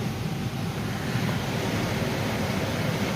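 Repaired air conditioner blowing at its highest fan speed, a steady close whooshing rush of air with a low rumble, continuous and unchanging.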